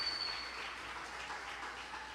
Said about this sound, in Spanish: denle su mejor aplauso al Rey bendito de la gloria